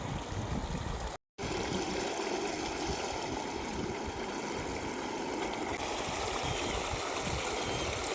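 Irrigation water pumped into a chickpea field, a continuous rushing, trickling flow heard close and steady, broken by one brief cut of silence early on.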